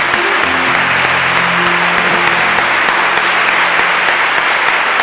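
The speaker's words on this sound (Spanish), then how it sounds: "Dale un fuerte aplauso a Jesús" A church congregation gives a strong, sustained round of applause, dense and loud throughout with no voices standing out.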